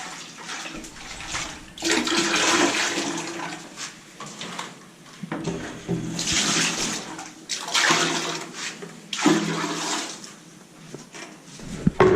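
A bucket of water poured into a toilet to flush it during tiling of a concealed frame installation, producing a loud, close, rushing gush in uneven surges with gurgling and splashing.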